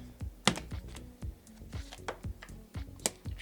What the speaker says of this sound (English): So I'm just going to cut the deck.